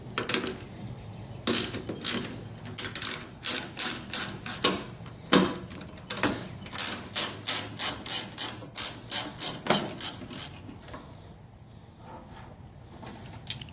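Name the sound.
ratchet removing tailgate bolts with 13mm socket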